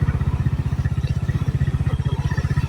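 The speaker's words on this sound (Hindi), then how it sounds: "बाइक रे जाऊँ" A motorcycle rides along a road at night with a steady, loud, rhythmic low engine thump throughout and no speech.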